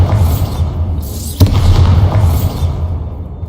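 A Bombarda spell explosion in the Hogwarts Legacy video game, a loud, deep boom with a sharp bang at its onset over a rumbling low background, followed by a fading roar.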